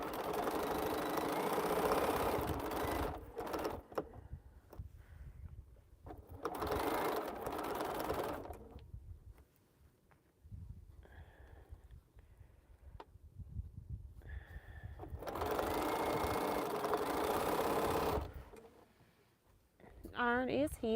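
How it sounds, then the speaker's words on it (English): A sewing machine stitches a quilt seam in bursts, running steadily for a few seconds at a time with pauses between, fairly close and loud, with a person talking during the quiet gaps. "Going to sew this one."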